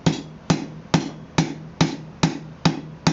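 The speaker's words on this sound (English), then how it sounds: "If you want to neaten anything up, you can get on the anvil and just planish it real lightly." A blacksmith lightly planishes hot forged tongs with a hammer on an anvil: seven crisp, evenly spaced ringing blows, each with a short metallic decay, struck close by with no talking.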